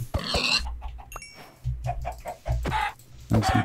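Chickens in the Minecraft video game cluck in a series of short, close, clipped calls with brief gaps between them, and no voices are heard.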